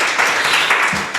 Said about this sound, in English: So also give another round of applause.